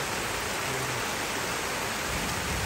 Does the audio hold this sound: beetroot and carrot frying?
no